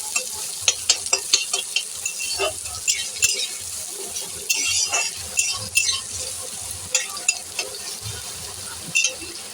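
Onions added to ginger and garlic frying in a pan, with a steady close sizzle broken by repeated scraping stirs and clinks of a utensil against the pan.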